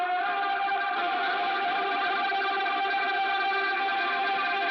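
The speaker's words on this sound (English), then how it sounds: "And then I have this vocal that I ran through a guitar amp." A sustained, distorted vocal run through a guitar amp drones steadily with a gritty, amp-driven texture and no pauses.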